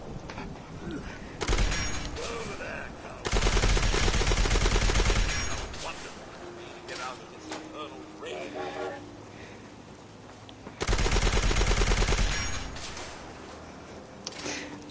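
Bursts of rapid video game gunfire from a weapon being tested, with loud sustained volleys separated by quieter stretches of game sound and a little talk.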